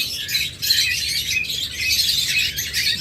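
A pair of violet masked lovebirds chirp and squawk in a steady, busy stream of high-pitched calls, close by and continuous, with no talking.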